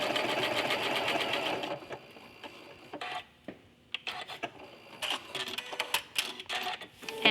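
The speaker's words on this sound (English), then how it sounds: "I'm going to start stitching my heart, pressing my button so that it's going to stop after it completes its single heart for me" A quilting sewing machine stitches a single decorative heart as a tacking stitch, a loud steady run for about two seconds, then quieter clicks and short mechanical bursts as it finishes and stops.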